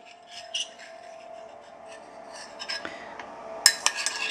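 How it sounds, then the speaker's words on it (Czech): Strawberry jam boiling in a pot while being stirred continuously, a steady soft scraping and rubbing of the spoon against the pot with a few sharper clinks near the end, close and moderately quiet. "Mezitím samozřejmě míchám neustále marmeládu, která se nám vaří v hrnci."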